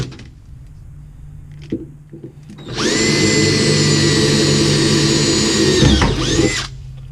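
A power drill bores holes in a trailer, a loud close whine that starts abruptly and holds steady for about four seconds before winding down, after a few quiet handling knocks.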